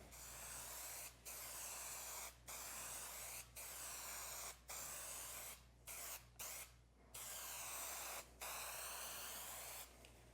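Contact cement sprayed onto plywood in a woodworking shop, a series of close, steady hissing bursts about a second long each, separated by brief gaps and a few quick short puffs, over a low hum.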